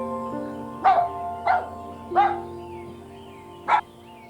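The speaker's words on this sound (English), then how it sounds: "Dog." A dog barks four times in short, separate bursts with uneven gaps, moderately loud and close, over a quiet musical background.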